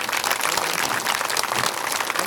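Audience applause at a women's devotional music event in Ballari, welcoming two children onto the stage; dense, steady clapping fills the whole moment at an even, moderately loud level.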